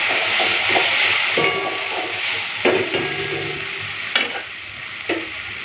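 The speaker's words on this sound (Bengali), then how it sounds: "এরপরে যে বেটে রাখা কাজু বাদাম আর সাদা সর্ষে এখন দিয়ে দেবো।" Ground cashew and white mustard paste going into a pan of lightly fried pumpkin, a steady close hiss of frying broken by several sharp scraping stirs of a spatula, with no talking.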